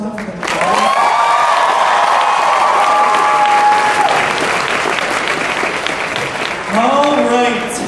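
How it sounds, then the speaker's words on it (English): Loud, sustained applause from a convention crowd at a cosplay contest, with whoops and cheers, and some talk rising over the clapping near the start and end. "round of applause one more time for them"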